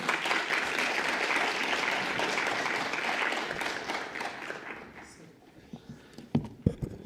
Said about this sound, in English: Please welcome our Chair, Dr. Smith, with a warm round of applause